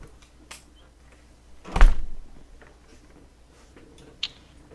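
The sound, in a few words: door shutting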